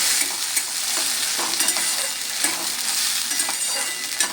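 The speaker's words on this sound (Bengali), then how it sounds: "খুব ভালো করে নেড়ে চেড়ে এটা আমি কষিয়ে নেব" A ground paste of ginger, garlic, green chilli, tomato and whole garam masala stir-fried in hot oil: dense steady sizzling with repeated stirring scrapes, close and fairly loud, without talk.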